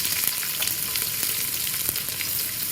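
Whole spices such as cinnamon, cloves and bay leaf sizzle in hot oil for prawn biryani, a steady close crackling fry with faint stirring and no talk.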